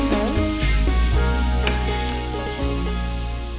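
Sweet corn egg masala sizzles steadily in a pan while being stirred, a continuous close frying hiss with soft scraping and clinks from the spoon, no voices.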